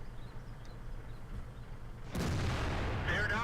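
A FV215b tank cannon fires in World of Tanks. It is one sudden loud boom that cuts into a quieter rumble of game ambience and holds as a sustained roar.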